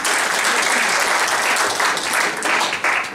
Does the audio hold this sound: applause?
yes